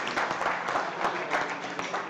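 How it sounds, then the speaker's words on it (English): Audience applause at a live chef showdown event, a steady dense patter of many hands clapping at moderate volume, continuous and fairly close for a couple of seconds. "Big round of applause for Ernest Hooper,"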